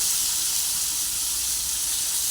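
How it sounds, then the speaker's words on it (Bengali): Tomato fries in a pan for a bitter gourd and potato dish, a steady, even hiss of sizzling oil throughout, close and continuous with no talking. "টমেটোটা অল্প করে ভেজে নিচ্ছি"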